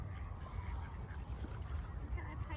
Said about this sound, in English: look at these ducks just chilling